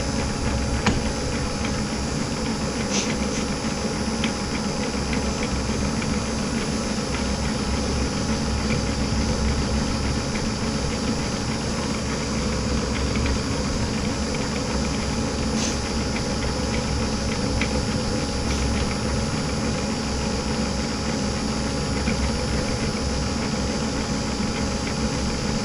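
An Ammco metal lathe turns a bushing at a slow 240 RPM, giving a steady, dense mechanical hum and whir that holds constant throughout, close and fairly loud, with a few faint ticks.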